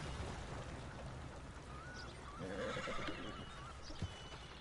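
A horse in Red Dead Redemption 2 neighs and whinnies amid ambient game sound, with hoof clip-clops and a brief louder thud near the end.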